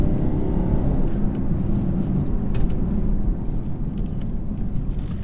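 A 2018 BMW X5 30d diesel SUV pulling hard from a launch, a loud, steady low engine drone and road rumble swelling slightly over several seconds, heard from inside the cabin.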